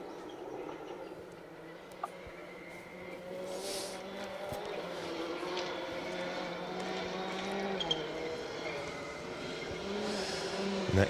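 A Citroen rally car, driven by Max McRae on its first gravel outing, runs through a forest gravel stage at the Carlisle Stages Rally, its engine a steady distant drone with rising harmonics and scattered gravel noise.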